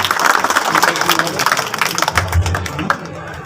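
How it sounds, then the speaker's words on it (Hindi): Applause from an audience welcomes guests onto the stage at a school lab inauguration, a dense patter of many hands clapping steadily, fairly loud and close for the whole stretch. "जोरदार तालियों से आपका अभिनंदन, स्वागत"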